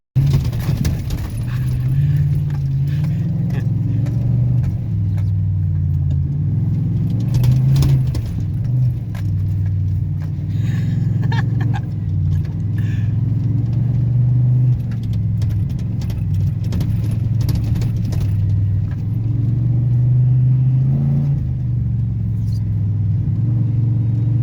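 Pickup truck driven hard off-road, a steady low engine rumble throughout with rattling and jangling bursts from the bouncing cab, loud and close for the full length, with no talk.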